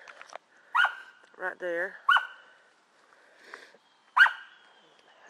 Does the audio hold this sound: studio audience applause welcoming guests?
no